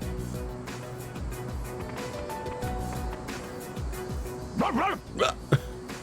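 Koromaru the dog barks in Persona 3 Reload: a steady game music bed, then a few sharp, close barks near the end.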